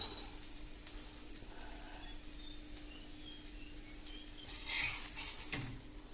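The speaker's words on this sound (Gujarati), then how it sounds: "આ રીતે તેલ નાખી દેવાનું ચોપડી દેવાનું અને ચડવા દેવાનું" Aloo paratha sizzling and frying in oil on a pan, a steady close crackle throughout with a brief louder flare near the end.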